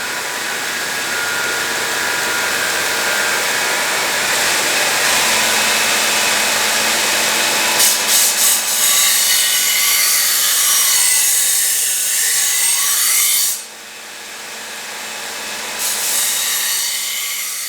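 A Shun kitchen knife worked on a 120 grit abrasive gives a loud, continuous grinding rasp that holds steady for a long stretch, drops out briefly near the end and then resumes, close up and with no voices.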